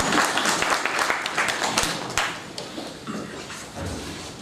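An audience at an Urdu poetry gathering (mushaira) and book reception claps in a dense, steady patter for several seconds, with a few sharper slaps standing out and a faint voice briefly underneath.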